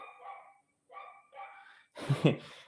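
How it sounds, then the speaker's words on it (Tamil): A dog on a residential street keeps barking early in the morning: a few short, whining yelps followed by a louder, harsher burst of barks, close by with no talk. "நாய் கத்திக்கிட்டே இருக்குது"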